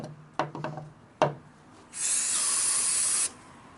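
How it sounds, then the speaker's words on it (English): A couple of metallic knocks, then a steady loud hiss as brake cleaner sprays and boils on hot metal, lasting about a second before cutting off. "It's just boiling the brake cleaner off."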